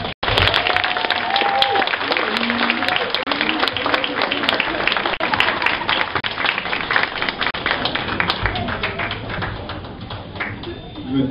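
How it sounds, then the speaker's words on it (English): Sustained applause for Frank Swan fills an end-of-year school celebration at New York Math Academy, with dense clapping, scattered whoops and crowd noise running loud and steady before a brief dip near the end. "I want to give a huge round of applause to the person who allows all of us to be here, Mr."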